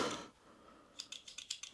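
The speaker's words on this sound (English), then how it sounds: "These scissors are massive." Roxon Phantom large scissors open and close in a quick run of about six crisp metallic snips, close and distinct, after a brief rustle of handling and a quiet pause.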